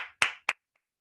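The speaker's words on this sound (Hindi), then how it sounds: "मैं योगेश सर के लिए चाहूंगा एक जोरदार तालियां होनी चाहिए" An audience claps for a speaker at a training session: two sharp, loud claps, the second shorter, then a brief faint tap trailing into silence.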